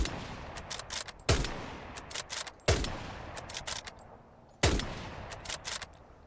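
Weapon fire at a practice dummy in the video game Hell Let Loose: three loud, sharp shots spaced evenly apart, each followed by a quick burst of smaller clicks and thuds from hits, with no voices.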